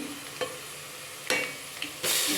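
Ground masala is tipped into a simmering fish curry and stirred in, a few soft scraping stirs followed by a brighter burst of sizzle near the end, close by with no talking.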